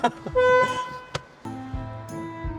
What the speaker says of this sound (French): Ah, donc on peut klaxonner même si la voiture est éteinte.